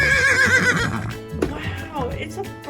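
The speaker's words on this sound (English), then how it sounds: "it's a brown horse" A brown horse gives a loud whinnying neigh at the start, followed by quieter snorts and movement sounds in a barn, with a toddler-style farm animal setting.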